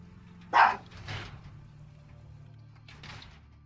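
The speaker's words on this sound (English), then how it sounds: "there they go. Barking at nothing as usual." Dogs barking in the video game Fallout 4, a sharp nearby bark followed by a softer one and a fainter pair later, over a low steady hum.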